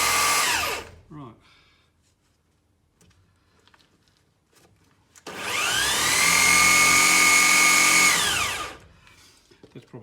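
A motorised mill-drill table powered by a drill runs at its higher speed with a loud, whining electric motor buzz lasting about three seconds. It comes after a shorter burst and a quiet stretch of small clicks and handling noises.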